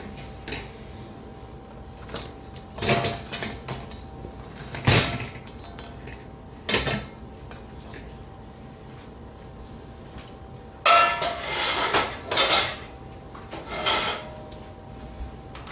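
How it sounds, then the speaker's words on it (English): A whole grain sourdough rye loaf is turned out of a hot baking pot, with scattered knocks, clanks and scrapes of the pot and lid set apart by quiet pauses. "So let's turn her out of the pot."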